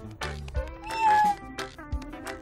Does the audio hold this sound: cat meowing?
yes